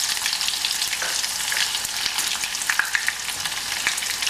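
Onions frying in oil in a pan, a continuous close sizzle with scattered crackles and light stirring scrapes, no voices.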